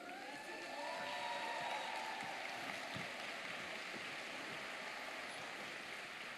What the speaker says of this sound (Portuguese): Vamos receber com aplausos nosso querido Nicolai Ursino.